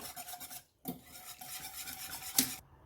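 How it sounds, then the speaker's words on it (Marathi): Close, rhythmic scraping and rasping as cooked toor dal for Konkan-style sweet varan is mashed with a whisk against a pot, with a brief pause and a sharp metallic clink near the end. "डाळ छान शिजली आहे थोडी घोटून घेऊया"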